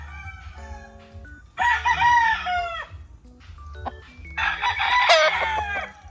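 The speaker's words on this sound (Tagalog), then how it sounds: "Ang manok." A rooster crows loudly nearby, twice in succession, with a soft clucking and low background hum between the calls.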